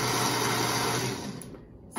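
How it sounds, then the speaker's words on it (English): A blender whirs loudly and steadily as it blends a strawberry smoothie, then its motor winds down and cuts off near the end. "my blender has settings"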